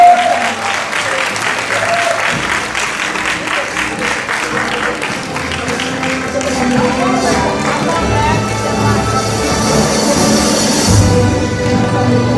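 An audience at a Bible theology institute graduation ceremony claps steadily and loudly for the whole stretch, the dense applause swelling slightly toward the end, with voices faintly mixed in.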